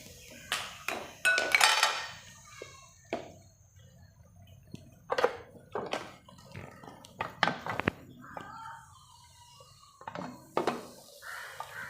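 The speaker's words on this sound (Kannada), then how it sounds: "ನಾನು ವಿಜಿಲ್ ತೆಗೆದು ನೋಡ್ತೀನಿ" Sharp metallic clinks, pings and taps ring out as the whistle is lifted off a cooled pressure cooker, with soft talk in between.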